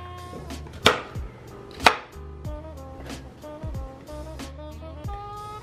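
A knife cuts a yam into cubes on a cutting board, with a series of crisp, close chops at irregular intervals, two of them loud, over a faint background tone.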